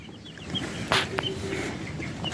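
Day-old chicks in a brooder, giving scattered faint high cheeps and peeps over a steady low background hum.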